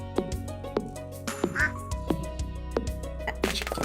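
Cartoonish duck quacks from the farm in Stardew Valley, about six evenly spaced calls over a soft looping background tune, alone without talk.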